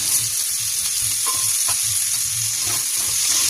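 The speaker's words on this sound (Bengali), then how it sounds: "ফার্স্টে পেঁয়াজ, পেঁয়াজটা একটু ভাজা হয়ে যাবে" Onion frying in oil in a pan for a yogurt chicken curry, with a steady loud sizzle and hiss throughout and repeated low scraping knocks of stirring, close up, with no voices.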